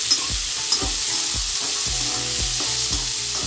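Black-eyed peas (lobia) with mustard seeds sautéing in a pan, a steady close sizzle broken by regular rhythmic scrapes of a spoon stirring roughly every half second.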